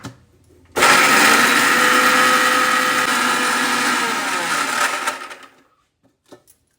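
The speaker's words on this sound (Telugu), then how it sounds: "దీంట్లో వేయించి పెట్టుకున్న బీరకాయ పొట్టు వేసేసుకొని మిక్స్ చేసుకుందాం" A mixer grinder powders roasted ridge gourd peel, starting abruptly with a loud, steady whirring roar that runs about four seconds, then cuts off and winds down, followed by a few faint clicks.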